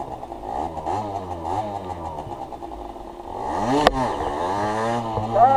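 A motorcycle engine revs and labours as the clutch is released, rising and falling pitch with a loud surge near the end, close and continuous, with a person talking faintly underneath.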